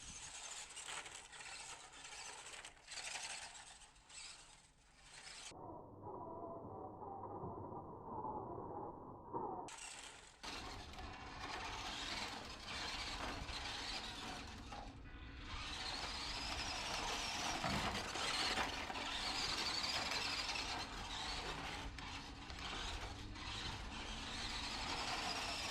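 A WPL RC Kei truck driving in slow mode makes a buzzing electric motor whine and gear rattle close to the microphone, with a short quieter gap midway before the motor sound returns and stays steady.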